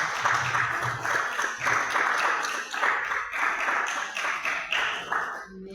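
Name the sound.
applause, clapping in church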